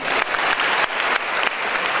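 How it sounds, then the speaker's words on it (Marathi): An audience at a Maharashtra university youth festival claps for volunteers, a loud, steady wash of applause from a large crowd with brief dips in intensity. "माझे हे सर्व व्हॉलंटियर्स यांच्यासाठी तुम्ही टाळ्या केल्या"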